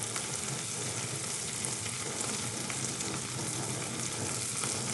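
Frittata egg mixture with vegetables frying in a hot pan, a steady, close sizzle that holds unbroken throughout with no voices.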